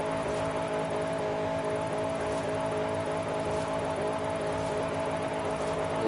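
A C5 Corvette with about 570 horsepower in a driving video game holds a steady, continuous engine drone with gentle swells in revs, loud and alone with no voices.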